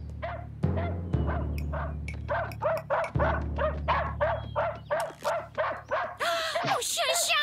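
A cartoon dog barks in a quick, steady run of loud, evenly spaced yaps over a low musical backing, ending with a few higher yelps.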